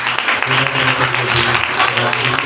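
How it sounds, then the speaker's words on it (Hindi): Applause for teachers at a church event, with a crowd clapping loudly and steadily throughout, mixed with voices and some tonal sound underneath. "टीचरों के लिए भी जोरदार तालियां।"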